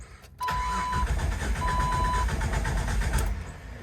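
A car engine cranks and catches during an at-home compression test, then runs steadily and loudly nearby for a few seconds, with a faint electronic beep in the background.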